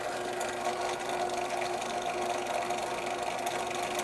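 A lathe spins steadily with material in the chuck while cutting a heater barrel for a hot end, producing a continuous whirring hum with a fine rapid chatter at close range.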